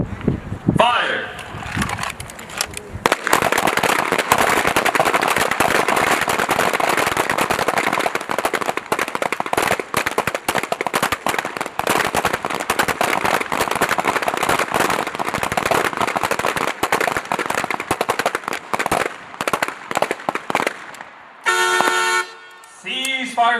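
Rapid, continuous pistol gunfire crackles across an outdoor Army pistol range at Fort Benning, Georgia, during a small arms championship, with many overlapping shots sustained for about twenty seconds before tapering into scattered reports and a brief beep.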